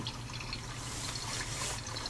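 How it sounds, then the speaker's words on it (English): A kitchen faucet dispensing sterilizing water, converted from ordinary tap water, runs in a steady, continuous hissing stream with no pauses. "This faucet is for sterilizing water."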